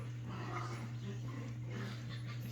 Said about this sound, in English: hear my dogs. I'll have to edit this out because they're kind of crazy right now